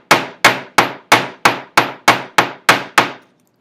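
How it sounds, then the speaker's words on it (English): A ball peen hammer strikes metal ten times in a steady even rhythm, each blow a sharp loud clang that rings out briefly, with nothing else heard. "I'm going to first use the ball peen hammer. I'm going to hit into the side to kind of make a"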